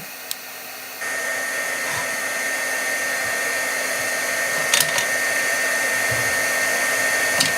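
Heat embossing tool blowing hot air over stamped paper, a steady close whirring hiss that starts softly then steps up louder and holds evenly, with a few faint taps.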